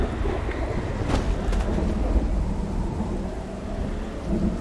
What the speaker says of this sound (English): it's got relaxing rain noise